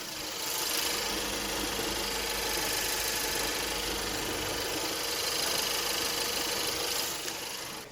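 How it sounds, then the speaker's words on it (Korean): A sedan engine idles steadily and smoothly at close range with the hood open, a continuous low hum with a faint mechanical whir and no voices. "그럼 지금부터 이 차량의 엔진 소리 한번 자세하게 들려드릴게요."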